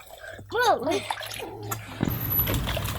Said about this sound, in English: I'm trying to do a cannonball.